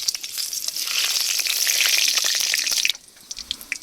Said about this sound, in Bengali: তেলের মধ্যে দিয়ে দেবো গোটা জিরা শুকনো লঙ্কা গরম মশলা